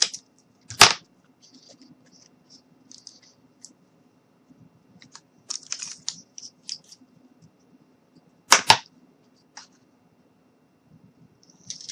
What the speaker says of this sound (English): I'm going to go ahead and take my shears, and we're just going to cut.